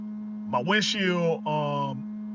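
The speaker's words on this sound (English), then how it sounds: "Y'all hear that humming noise and stuff that's coming from my truck. That's my windshield wiper motor." A truck's windshield wiper pump motor gives off a steady, even electrical hum that runs throughout, while a person speaks briefly over it.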